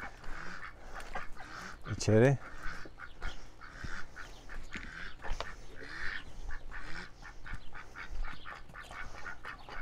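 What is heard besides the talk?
ducks in a poultry coop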